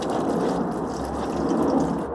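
Coolant runs from the drain plug at the bottom of a Yamaha XTZ660 3YF motorcycle's water pump, a steady close trickle and patter of liquid with no talking.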